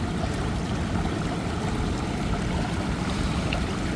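Steady rushing water pours through a gold sluice box, a dense continuous wash with a churning low rumble and no break across the span.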